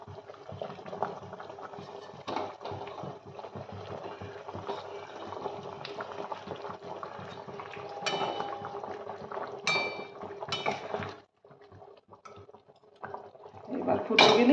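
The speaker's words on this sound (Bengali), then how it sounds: "এবার ফুটে গেলেই হয়ে যাবে রেডি আমার মাছের ঝোল" Rohu fish curry bubbles in a pot, a soft continuous boiling and simmering with occasional clinks of utensils, close by, while a voice is heard intermittently.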